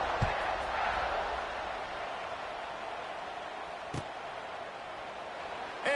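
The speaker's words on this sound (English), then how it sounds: "this crowd is buzzing after that last score" A stadium crowd at a college football game in a video game buzzing after a score, a steady broad roar of many voices throughout with a couple of brief sharper sounds, no speech heard.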